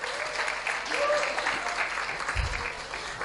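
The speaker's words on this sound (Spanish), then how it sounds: "dense un aplauso ustedes mismos" Congregation at a Sunday church service applauding, a steady wash of clapping from many hands filling the room, with faint voices mixed in.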